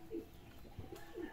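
A racing pigeon coos softly, two or three low murmuring calls spread across a quiet moment, with no talking.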